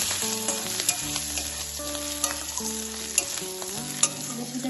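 Bay leaf tempering and grated ginger sizzle and are stirred in hot oil, with a soft sizzle and sharp spoon clicks against the pan at irregular intervals under a melodic tonal background, with no voices.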